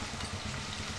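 Bay leaf frying in hot oil for a village-style stuffed brinjal curry, a soft continuous sizzle with light crackle, close and steady, no voices.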